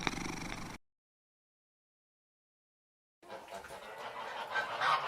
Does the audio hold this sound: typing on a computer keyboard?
no